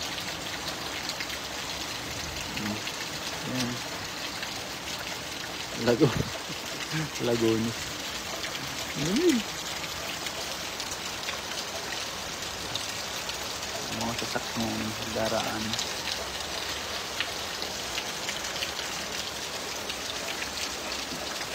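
Heavy rain pours off a gutter in a steady broadband wash, with someone speaking briefly over it and a few louder splashes or passing sounds in between.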